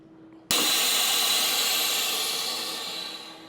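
A vacuum sealer switches on abruptly and pulls air from a food bag for sous vide surf and turf, a loud, steady motorized hiss that fades slightly as it runs, close and without talk.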